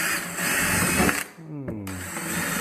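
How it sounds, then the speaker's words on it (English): A power drill pre-drills the four corners of a cabinet back panel: a loud, steady whirring that stops about halfway through, then a brief pause and a falling, slowing tone before the drilling picks up again. "Now I'll pre-drill these four corners."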